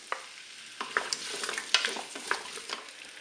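Potatoes drop into hot oil in a Cookeo and fry with a close crackling sizzle, broken by several sharp clicks and taps of a utensil as they are stirred.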